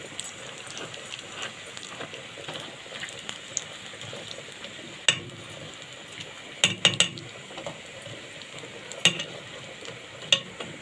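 A steady soft sizzle of ingredients frying in a pan for Egyptian koshari runs throughout, punctuated by sharp clinks of a utensil stirring against the metal.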